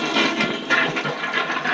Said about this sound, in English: It flushes weirdly.